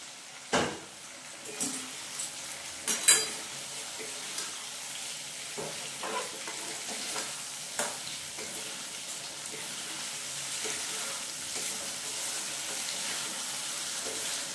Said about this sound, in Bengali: এইবারে আমি এই ভেজে রাখা পটলটা দিয়ে দেবো।